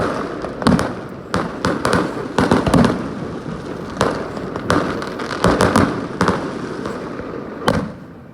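Australia Day fireworks at Hamilton Island, heard as a steady run of loud, sharp bangs and crackling bursts over about eight seconds, with no talking.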